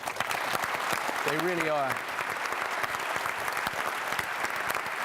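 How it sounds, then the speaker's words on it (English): An audience at a Virgin Galactic presentation gives a full round of applause, dense sustained clapping throughout, with a voice briefly speaking over it near the start. "So a round of applause for them."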